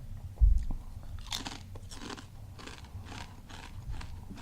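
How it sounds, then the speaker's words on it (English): Crunching on Blair's Death Rain Jolokia pepper kettle chips, a few crisp bites and chewing noises close to the mic in a quiet room, with one louder crunch near the start. "The chips are nice and crunchy."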